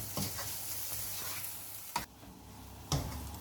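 Moringa leaf stir-fry being turned in a hot pan, with a soft steady sizzle and two sharp spoon knocks against the pan near the end, close and fairly quiet, no voices.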